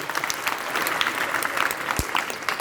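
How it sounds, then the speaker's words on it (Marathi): An audience at a Marathi lecture breaks into loud, sustained applause, dense clapping filling the hall for several seconds with a brief low thump partway through. "या सर्वांसाठी जोरदार टाळ्या वाजा एकदा"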